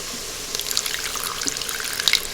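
Water runs from a tap into a pot to deglaze burnt bits on its bottom while cooking one-pot pasta, a steady splashing pour with some bright drips and no voices.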